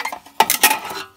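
Metal parts of a German mess kit, including a frying pan lid and an inner bowl, clink and rattle together in a brief close burst of jangling metallic knocks.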